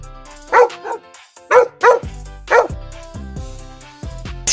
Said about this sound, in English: Woof woof, that's the farm dog.